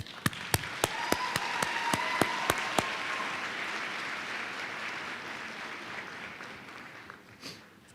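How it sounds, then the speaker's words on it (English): Audience applause at a high school graduation, with a few loud, evenly spaced near claps at first and a broad wash of crowd clapping that fades gradually toward the end. "Please join me in applauding their accomplishments"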